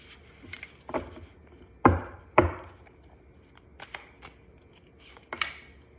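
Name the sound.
shuffling tarot cards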